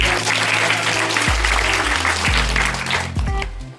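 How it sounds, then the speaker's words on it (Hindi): A school audience at a National Unity Day event applauds loudly for a student's English speech, with continuous clapping over a droning low musical tone that shifts pitch a few times. "एक बार जोरदार तालियों"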